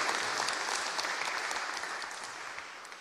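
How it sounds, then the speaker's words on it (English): Audience applause at a scientific conference lecture in Saint Petersburg, a continuous wash of clapping from a large hall that slowly tapers. "Let us applaud to them"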